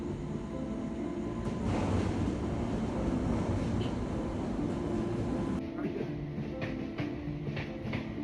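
Aboard a moving train, a loud continuous rumble with rhythmic rattling of the carriage fills the scene throughout, steady and close.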